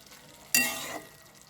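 Marinated chicken mince being stirred and fried in a pan, a single sudden scrape and hiss that bursts in loudly, then fades over about half a second to quiet.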